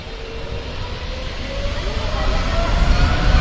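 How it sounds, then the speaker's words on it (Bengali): An Emirates airliner near the runway of Dhaka airport, heard from the crowded Uttara Bauniya viewing spot, gives off a broad engine roar and low rumble that grows steadily louder across the stretch. "এমিরেটসের এই বিমানটি ঢাকায় মোটামুটি রেগুলারই যাতায়াত করছে।"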